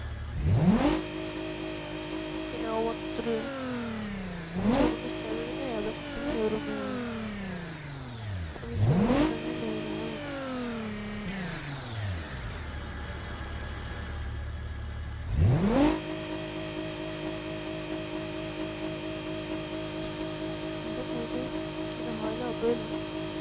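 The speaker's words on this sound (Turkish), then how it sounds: "Araba." A car engine in the driving game BeamNG revs up repeatedly, with four or five rising whines climbing in pitch and falling back between bursts, the engine then holding a sustained drone; a voice talks over it at times.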